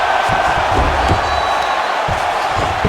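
Arena crowd noise from an EA Sports UFC fight game, a steady, loud roar of cheering fans with scattered thumps, running continuously under a faint commentator voice.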